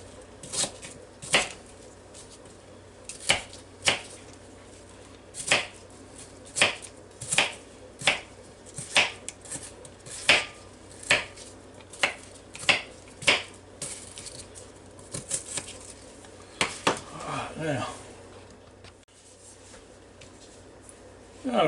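A knife chopping an onion on a cutting board, sharp distinct taps in an irregular rhythm, some close and crisp, with scraping and handling noise near the end.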